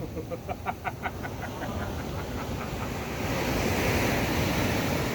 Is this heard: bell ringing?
no